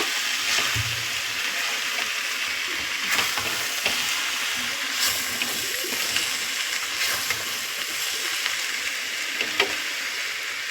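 Katla fish head and cabbage curry stirred and frying in a pan, a steady close sizzle with soft scraping of the spoon running throughout, no talking.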